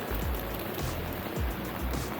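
Rain falling on a Tokyo street, a steady dense hiss of drops on wet pavement with low rumbles underneath.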